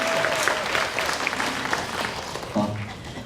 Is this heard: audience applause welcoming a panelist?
yes